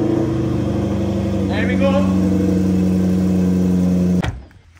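A McLaren 720S engine runs steadily at a low, even idle throughout, with someone talking briefly over it before the sound cuts off abruptly near the end.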